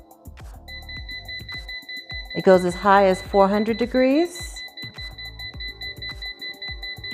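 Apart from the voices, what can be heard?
air fryer control panel beeping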